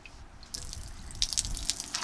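Liquid drips and trickles out of a urine jug inside a converted box truck, a run of small wet drips and splashes close by, starting after a quiet half second and continuing irregularly.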